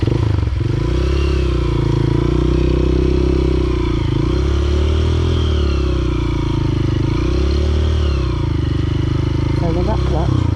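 A motorcycle creeps slowly through mud, its engine loud and close in a steady low throb that rises and falls with small throttle changes, while a rider talks over it.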